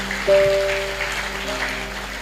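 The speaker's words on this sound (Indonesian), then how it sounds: "Tepuk tangan bagi Tuhan Yesus." A church congregation at a Good Friday service breaks into brief applause, a soft patter of clapping that swells and fades over a couple of seconds beneath a faint sustained tone.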